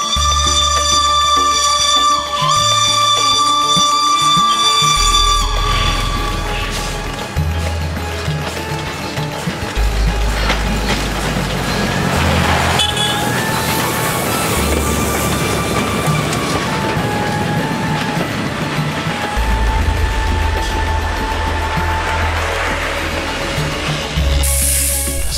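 A steam locomotive runs past on rails during a German tourist steam-train excursion in Indonesia near Tuntang. It produces a loud, close, continuous rumble and hiss with shifting clatter and rhythmic rail noise throughout.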